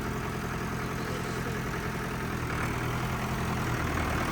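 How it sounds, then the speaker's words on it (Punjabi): A Mahindra 475 tractor engine idles steadily nearby, a constant low diesel rumble with even mechanical knocking and no voices. "ਲੈ ਸੁੱਖੇ ਬਾਈ ਮਾੜਾ ਕਿਹੜਾ ਆ ਟਰੈਕਟਰ ਦਾ ਦੇਖ ਚਲਾ ਕੇ"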